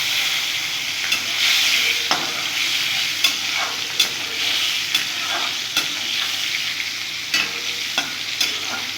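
Green chillies sizzle in hot oil in a pan while cooking a small-fish curry with eggplant, a steady crackling hiss broken by sharp spits and the occasional stir, close and fairly loud with no talking.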